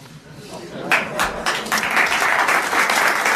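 Studio audience applause on a 1991 French television talk show, a steady wash of clapping that swells and holds loud after a brief quieter lead-in, with voices mixed underneath.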